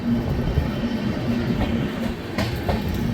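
The Mahakaushal Express passenger train rolls along the rails with a steady, loud rumble, a low drone, and rhythmic clickety-clack from the wheel joints.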